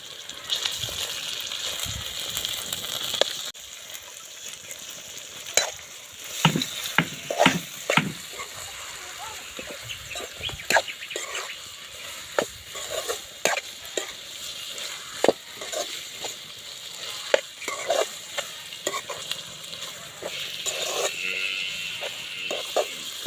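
Chicken curry simmering in a pot over a village-style wood fire, stirred with repeated scraping clicks and knocks over a steady bubbling hiss, fairly quiet and close.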